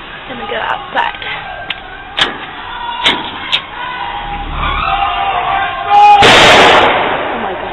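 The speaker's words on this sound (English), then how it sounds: "Sometimes a car will come down this way honking its horn." Sharp scattered firecracker bangs ring out on a street in Iran, then a car approaches and passes with a sustained horn blast, ending in a loud whoosh of noise.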